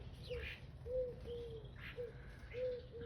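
Birds call around a garden bird table in a small woodland garden, soft repeated coos and brief chirps at moderate distance over a quiet background.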